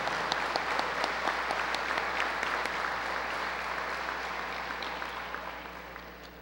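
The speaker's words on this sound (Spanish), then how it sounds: "Creo que es justo empezar por tributarles un aplauso a los profesores que nos visitan y a los estudiantes organizadores." An audience applauds visiting professors and student organizers at a law lecture, a dense, steady wash of many hands clapping that slowly fades toward the end, with no talking over it.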